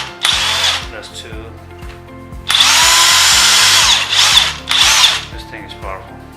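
A DeWalt DCF899 cordless impact wrench loosening a car's lug nut gives a short burst, then a longer loud hammering run and two more bursts, each a harsh high rattle over a steady motor whine.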